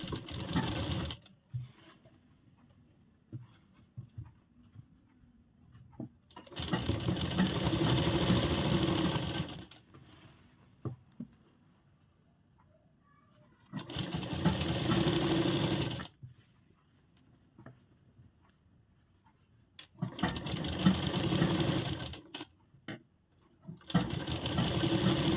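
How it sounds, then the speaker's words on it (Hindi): Sewing machine stitching the armhole of an angrakha-style umbrella frock, three separate bursts of rapid mechanical whirring of a few seconds each, nearby, with quiet handling sounds between them. "यहाँ से हम सिलाई शुरू कर देंगे।"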